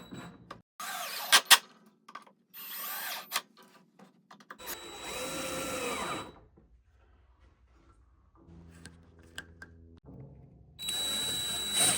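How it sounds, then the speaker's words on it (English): A power drill pre-drills holes in cedar boards for a planter box, running in several short close bursts separated by pauses, with a steady hum toward the end. "I'm gonna pre-drill these, like I said before."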